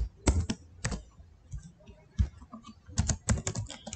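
A computer keyboard clatters nearby in quick bursts of key taps and short pauses, close and fairly loud, with no talking.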